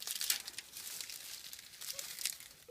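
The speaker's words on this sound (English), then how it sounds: "and all we do is we fold it over" Newspaper folded over and over by hand, a close, steady crinkling and rustling of paper with brief crisp crackles, no talking.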